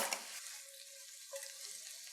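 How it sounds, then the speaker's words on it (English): Hot pan with a mustardy Dijon sauce sizzles steadily as it is stirred, a bright continuous hiss with a small clink at the start, close and alone without talk. "Give it a stir."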